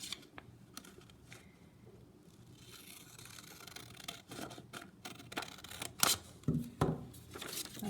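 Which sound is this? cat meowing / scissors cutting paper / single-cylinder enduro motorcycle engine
scissors cutting paper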